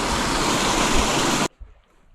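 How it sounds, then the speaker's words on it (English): Waterfall on Five Mile Creek near Graysville, Alabama, a loud, steady broadband rush of falling water that cuts off abruptly partway through, leaving a quiet outdoor background. "there's the waterfall"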